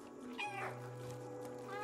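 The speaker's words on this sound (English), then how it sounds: "They all meow back" Several cats in the video game Stray meow in short, clear calls, one after another, close and fairly quiet, with no talking over them.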